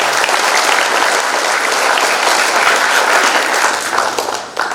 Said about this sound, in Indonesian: Tepuk tangan dong buat kampus yang hebat